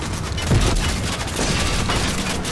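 Dense, continuous gunfire and explosions from a Fortnite match, loud and booming throughout with overlapping blasts and no clear pauses.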